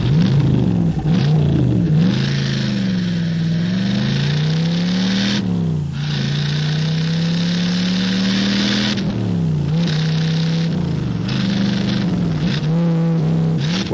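A Chevy Camaro engine revs loudly and up close, its deep throaty growl rising and falling through repeated throttle blips and gear-like pitch sweeps, with no talking over it.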